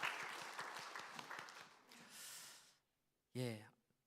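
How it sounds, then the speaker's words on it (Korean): A church congregation at a Sunday morning service applauds. There is a burst of scattered clapping, then a softer patch and silence, and a short spoken line at the end. "박수 하겠습니다."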